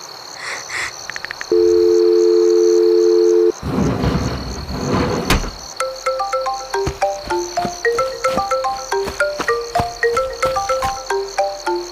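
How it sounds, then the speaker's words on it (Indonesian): Phone call ringing tone in the mobile game Sakura School Simulator: a steady two-tone ring for about two seconds, followed by game sound effects and a repeating plucked musical pattern. "Gue harus telepon Fatur."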